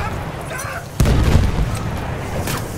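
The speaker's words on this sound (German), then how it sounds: "Schick dir eine Granate!" A grenade goes off in a war video game with a single sudden, heavy boom, then a rumbling tail under a busy battle soundscape.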